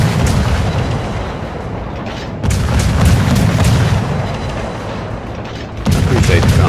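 The 5-inch guns of the destroyer USS Kidd fire in a naval combat video game, producing heavy continuous booming salvos with rumbling low thuds that stay loud and dense, building up again near the end.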